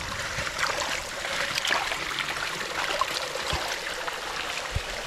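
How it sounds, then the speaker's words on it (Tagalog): Water flows along a mud-and-cement channel beside a roadside house. It makes a steady trickling, babbling sound, close and moderately loud, with a few small knocks and no speech. "Dito po nadaan yung tubig ngayon."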